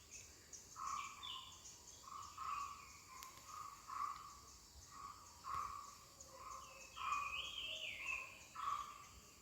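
Countryside birds and insects around an old stone village temple in Konkan: repeated faint chirping bird calls over a steady high insect hum, distant and quiet, with no talking.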